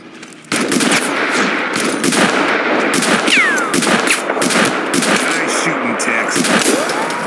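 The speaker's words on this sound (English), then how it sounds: "Let me lay down some cover fire." Sustained cover fire in the game Mud and Blood: loud, dense bursts of gunfire and rattling shots roll on continuously, with a couple of whistling, zipping sounds mixed in and voices speaking over the battle.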